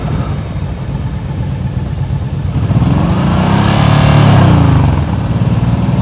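A motorcycle engine is held at raised revs during slow-speed riding practice, a loud, constant drone that swells and rises in pitch midway before settling back, close by with no talk.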